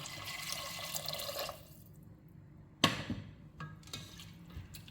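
Water is poured into a pressure cooker pot holding green moong dal and rice, a steady close splashing pour lasting about a second and a half, then quieter kitchen sounds and a sharp clink.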